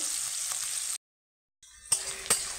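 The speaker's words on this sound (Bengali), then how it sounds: "আমি একটু হালকা লাল লাল করে ভাজবো।" Onions sizzling in a pan while being lightly browned for a village-style onion chicken, a steady frying hiss that cuts out for a moment and then resumes with a couple of stirring knocks.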